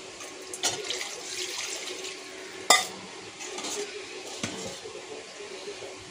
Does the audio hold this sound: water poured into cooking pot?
yes